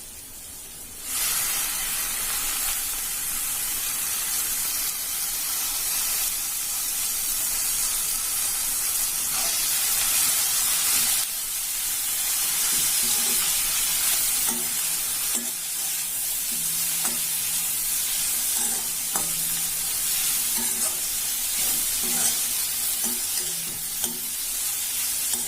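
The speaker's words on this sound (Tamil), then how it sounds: "வெங்காயம் கொஞ்சம் வதங்கிட்டு இப்ப புதினாவும் கருவேப்பிலையும் போட்டுக்கலாம்." Mint and curry leaves dropped onto sautéed onion in a pan, a sudden loud sizzle that continues steadily, with light stirring clicks and scrapes in the latter half and no one talking.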